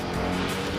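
A lifted Ford Raptor pickup's engine runs loud and close, a dense, steady roar that fills the whole moment with no break or talking.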